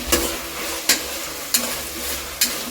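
Green chillies, ginger paste and curry leaves sautéing in a pan for coconut rice, a low steady sizzle broken by four sharp spatula scrapes and knocks spaced across the moment.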